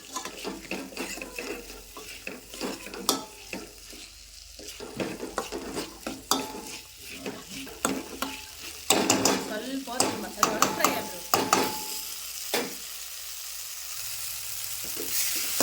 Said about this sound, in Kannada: ಈಗ ಬಟಾಣಿ ಹಾಕ್ಕೊಂಡು ಮಸಾಲೆ ಒಳಗೆ ಈ ಎಣ್ಣೆ ಒಳಗೆ ಒಂದು ಸ್ವಲ್ಪ ಹೊತ್ತು ಒಂದು ಐದು ನಿಮಿಷ ಎಣ್ಣೆ ಒಳಗೆ ಫ್ರೈ ಮಾಡ್ಕೊಳಂಬ್ರಿ